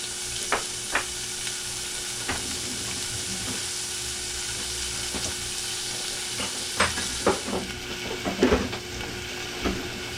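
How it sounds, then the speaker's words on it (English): Aromatics for picadillo sautéing in a pan, a soft, constant sizzle with scattered clinks and taps of a spoon against the pan, fairly quiet and without speech. "So we're gonna start off with that and let that saute for a little bit."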